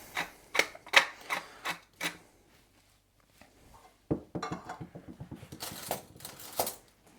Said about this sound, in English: I'll just mix that with some mayo and some cracked black pepper